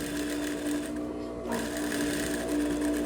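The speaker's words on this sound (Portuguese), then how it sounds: "é bom passar mais uma costura reta aqui de reforço" A sewing machine runs a straight reinforcing seam on a pocket of jeans shorts, a steady continuous whir with no break for the whole stretch.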